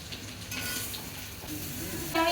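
Sliced tender ridge gourd hits a hot pan of oil with potatoes, giving a steady close sizzle and frying hiss that swells near the end, with light stirring clatter.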